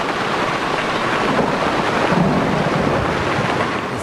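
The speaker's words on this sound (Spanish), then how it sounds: "A veces llovía a mares." Heavy rain pours in a loud, constant roar with low thunder rumbling through it and some wind buffeting the microphone, with no voices.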